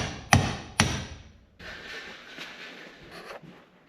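Two sharp metallic hammer blows drive an inner lipped seal into a 2006 Yamaha Rhino 660 hub through a 1 3/4 inch socket, close and distinct, followed by quieter scraping and handling noises.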